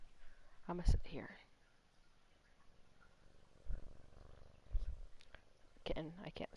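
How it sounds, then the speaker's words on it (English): A pet cat purrs faintly and low, a soft continuous rumble between louder bursts of a voice and a few close handling bumps. "My cat loves me today."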